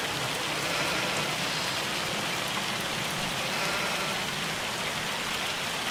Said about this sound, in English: I do not like hail at all.